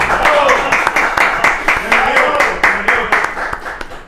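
An audience claps enthusiastically to welcome a studio guest, the football figure Hugo Estigarribia, on a talk show. The steady, dense clapping runs throughout with voices over it.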